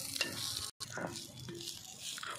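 Moringa leaves frying in a pan give a steady, close, moderately loud sizzle with light stirring scrapes and one brief dropout partway through.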